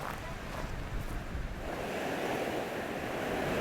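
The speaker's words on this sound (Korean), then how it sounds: "인적이 없는 모래사장에 거친 파도가 몰아친다." Rough winter sea surf crashes onto an empty sandy beach at Gangneung, a steady roaring wash of waves with gusting wind buffeting the microphone throughout.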